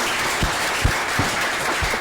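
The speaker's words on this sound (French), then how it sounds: "Akossi Benjo, il faut l'applaudir beaucoup." Audience applause at a ceremony: a steady wash of clapping that carries on evenly for about two seconds, with a few heavier claps standing out near the front.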